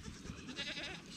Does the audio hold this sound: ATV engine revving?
no